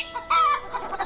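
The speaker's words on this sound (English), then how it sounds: "Chicken," A chicken clucks in a quick run of a few close, clear clucks over just over a second, with no talk.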